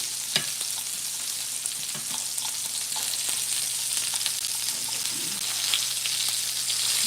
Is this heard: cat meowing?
no